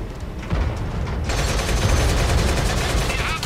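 Rapid machine gun fire from a BMP-2 in World of Tanks on console, a dense continuous burst of close, loud shots with a brief lead-in before the sustained rattle.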